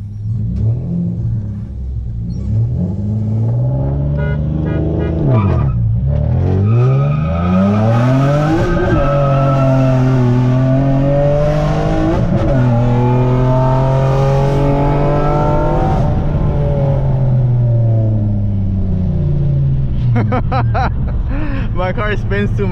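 A loud car engine revs high and launches, the pitch climbing and dropping through gear changes, with tire squeal and rumble throughout.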